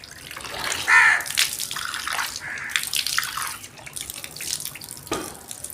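Water poured by hand onto the face during Islamic ablution (wudu), splashing and trickling into a basin in short gentle bursts, close and fairly clear with no talking.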